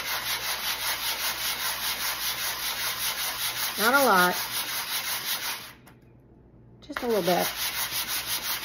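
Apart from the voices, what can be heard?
sanding wooden toy truck rails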